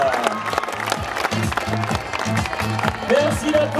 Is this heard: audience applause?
yes